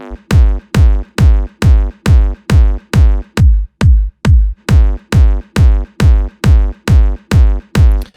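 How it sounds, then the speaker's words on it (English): An electro industrial kick drum shaped with EQ and its low end cut up to 200 Hz, hitting about twice per second in a steady, loud pattern of punchy thumps with short decays and no other sound. "And then with my other kick drum, it sounds like this."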